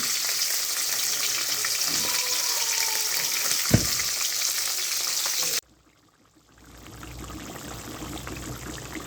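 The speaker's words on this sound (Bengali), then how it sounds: "মাছ ভাজা হচ্ছে।" Fish frying in an oil-filled pan gives a steady, close hiss and crackle with one sharp clink midway, then the sizzle cuts out abruptly and returns much quieter.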